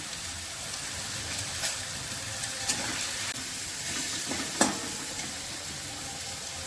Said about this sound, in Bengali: পেঁয়াজ আলু ভাজা হবে এখনো।